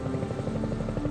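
A helicopter is in flight, its main rotor giving a steady, fast rhythmic chop over a constant engine whine, loud and close, with no voices.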